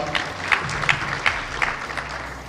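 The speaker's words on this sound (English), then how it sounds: "One more round of applause for Kushal." Audience at a public event in Mombasa with the Deputy President present claps briefly, a short burst of several distinct hand claps over a murmuring crowd background.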